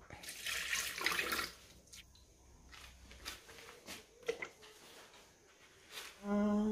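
A tap runs water into a bowl to soak it, a steady splashing rush at first that eases into a thinner trickle, close by, with a few clinks and knocks around it.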